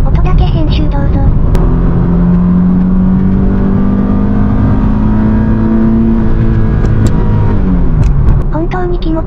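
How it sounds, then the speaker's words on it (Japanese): A six-cylinder car engine revs on a rainy Tokyo expressway, its steady, loud drone climbing smoothly in pitch and easing back for about nine seconds, with no talking over it. "6気筒だけが奏でる、官能的な音とスムーズなエンジンフィール。"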